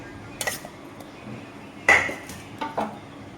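Boiled bitter gourd is lifted from a pot onto a metal plate in a home kitchen, giving a few sharp metallic clinks and scrapes of utensil on metal, close and isolated.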